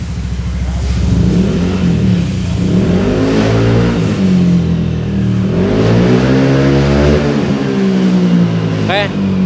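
A 2020 Yamaha NMAX scooter fitted with a BRT racing throttle body revs loudly and close by, its engine tone rising and falling through repeated throttle blips with a continuous droning hum.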